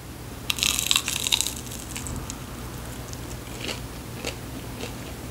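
Crunchy food with vegetables is bitten and chewed close to the microphone, a cluster of sharp crisp crunches early on followed by softer, scattered chewing crackles in a quiet room.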